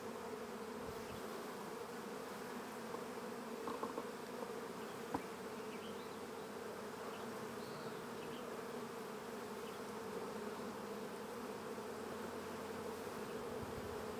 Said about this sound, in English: to shake the bees that are on this frame into this nuke.